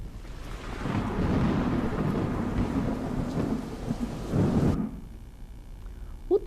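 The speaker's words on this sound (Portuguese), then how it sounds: "Será que o trovão, o som do trovão, é um som grave, ou é um som agudo?" A thunderstorm with a deep, rolling thunder rumble over steady rain, loud and sustained for several seconds before cutting off abruptly into a quieter patch of falling rain.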